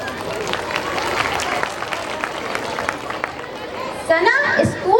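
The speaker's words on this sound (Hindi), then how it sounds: "प्लीज आप लोग तालियों में कंजूसी मत करिए।" A crowd claps at a school annual function, a thick and fairly loud patter of many hands with a murmur of voices, before a voice starts speaking over it near the end.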